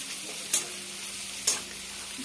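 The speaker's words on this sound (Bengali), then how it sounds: "ভাজা এখন করে নেব আমি" Onions fry in a pan with a continuous crackling sizzle, and three quick spatula scrapes land at spaced intervals, recorded close with no voices.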